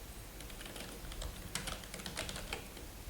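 Quiet rapid keystrokes on a computer keyboard as a password is typed to log in, a soft irregular run of clicks, close and alone.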